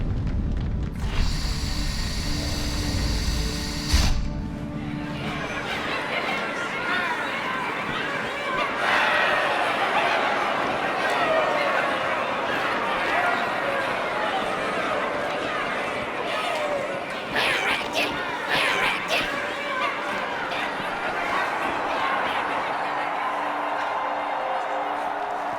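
Crowd chatter from a gathered throng in a Halo 2 cutscene: a dense, steady murmur of many voices that follows a brief louder burst at the start and stays fairly even throughout.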